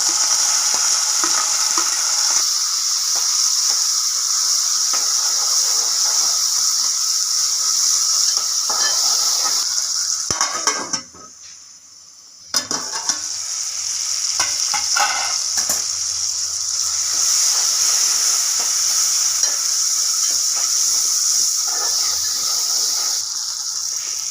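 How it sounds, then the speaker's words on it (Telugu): Tomato pieces fry loudly in hot oil with mustard seeds and cumin for tomato poha, giving a strong, continuous sizzle with stirring clatter. It drops out briefly midway, then comes back at full strength. "బాగా ఫ్రై అయిన తర్వాత ఇప్పుడు టమాటా ముక్కలు వేసుకున్నాం"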